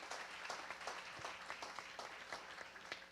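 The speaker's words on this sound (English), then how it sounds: "Let's give them one more round of applause." Audience applause at a presentation event fills the space with a steady, dense patter of many hands clapping, heard from a distance and fairly quiet, with no talk over it.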